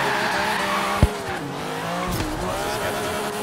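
A BMW M3 E36 in Forza Horizon 3 engine drones steadily while tires squeal and skid through a drift, with a sharp thump near the start and engine pitch shifting throughout.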